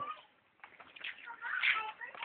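A small African wild cat gives a few high, thin meows at close range, rising louder toward the end, with a voice nearby.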